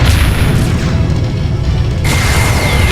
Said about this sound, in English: All batteries, fire at will.